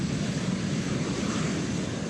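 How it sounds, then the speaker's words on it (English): A jet aircraft engine roars in flight as a constant, loud, broadband rush that holds steady without a break throughout. "jet noise is the sound of freedom"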